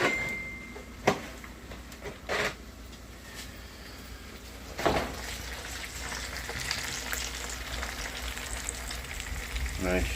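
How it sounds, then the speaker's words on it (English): Oven-baked spare ribs sizzle in a pan, a steady soft frying hiss broken by a few clunks like an oven door or tray being handled. "Nice, you can hear a nice sizzle on there."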